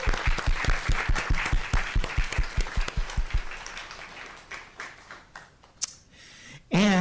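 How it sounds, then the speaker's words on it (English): An audience at a school governing board meeting applauds a student chess champion. Brisk, even clapping rings out for a few seconds, then thins and fades into scattered claps and room noise before a brief final sound. "So let's give Evan a round of applause."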